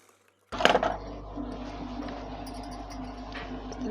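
A sewing machine stitches a plain blouse, starting abruptly after a moment of near silence with a clattering burst, then settling into a steady low mechanical hum that runs to the end, close and without talking.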